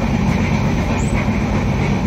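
Jan Shatabdi express train running on the Konkan Railway between Ratnagiri and Dadar: a steady, loud rumble of rolling coaches with constant low roar and faint wheel noise, heard from on board, no voices.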